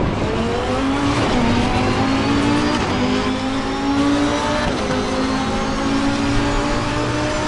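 A race car engine in Assetto Corsa Competizione at Monza at night pulls hard and steadily, its loud, close tone climbing through repeated rises as it accelerates, with no pauses across the stretch.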